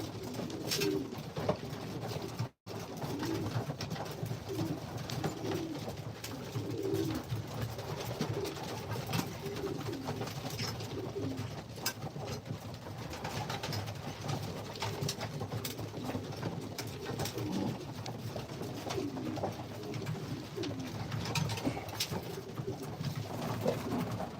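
Racing pigeons coo steadily inside a loft, soft low throaty calls repeating and overlapping throughout against a constant rustling background, fairly close, with no talking.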